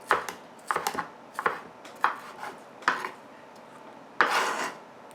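Peppers being chopped with a knife on a cutting board, a series of sharp, close taps landing in uneven bursts, with one longer scraping stroke near the end; no one talks.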